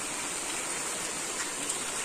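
Rain falls steadily outdoors near a home garden, a soft, even hiss of drops that continues without pause and with no voices.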